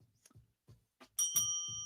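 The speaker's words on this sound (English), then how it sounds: "Fred, do you have the bell?" A small bell rung in a radio studio sounds once with a bright ring that lingers for well over half a second. It comes right after some quiet talk.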